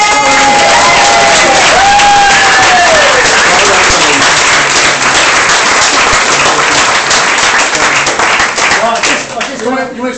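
Loud, close applause from a Christmas gathering crowd with cheering voices mixed in, sustained dense clapping that holds steady, then eases slightly near the end as talk emerges.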